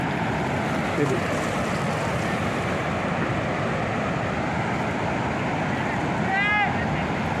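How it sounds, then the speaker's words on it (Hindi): Fast-flowing Ganga river water rushes loudly and steadily near Laxman Jhula between Haridwar and Rishikesh, a dense continuous roar with wind buffeting the microphone and a brief faint chirp near the end. "इतना तेज़ पानी। कल कल की आवाज़ आप सुन रहे होगे।"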